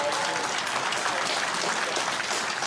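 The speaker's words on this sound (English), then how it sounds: "please, a huge round of applause for all our sponsors" An audience gives dense, sustained applause for the sponsors at an award presentation, a loud, even roar of many hands clapping with no break from start to finish.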